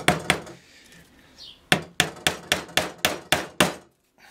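A hammer drives nails into pallet wood for a garden planter: two sharp strikes, a pause, then a quick run of about eight evenly spaced, ringing blows, close and loud.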